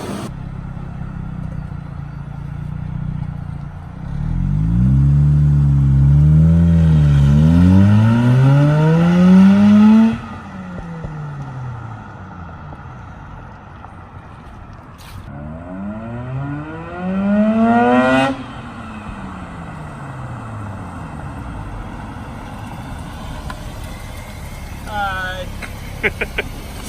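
A Mazda RX-8 R3 with an RB Rev8 catback exhaust revs up twice, each time rising to a raspy roar and dropping away, with a burbling idle between the revs.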